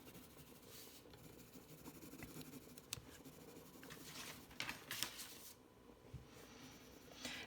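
A Schpirerr Farben coloured pencil lightly shades on paper, making soft, close rasping strokes in an uneven back-and-forth rhythm, with a few louder scratches and no speech.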